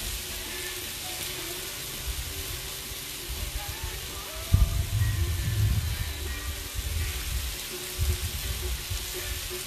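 Potatoes frying on a Blackstone griddle outdoors in South Texas, a steady sizzle that swells louder midway as food hits the hot surface, with light scraping and no speech.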